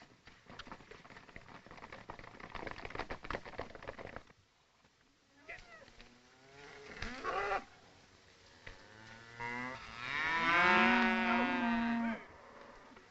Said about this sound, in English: Put the cattle on the bedding ground.